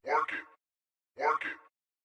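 Vocal shout sample pitched down a few semitones, heard twice as two short, identical, deepened shouts separated by silence, dry and isolated.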